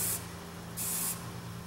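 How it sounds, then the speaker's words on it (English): Two bursts of aerosol gun cleaner sprayed onto a Glock G26 recoil spring, each a loud steady hiss lasting under half a second, separated by a short pause, with no talking. "I'm just going to spray this spring down real good first."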